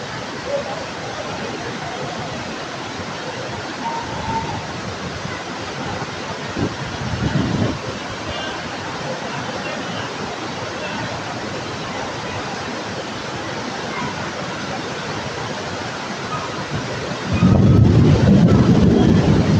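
Artificial waterfall built into the station shed at Khed railway station, Ratnagiri, a steady broadband rush of falling water that is close and constant, with people talking nearby and a louder burst near the end.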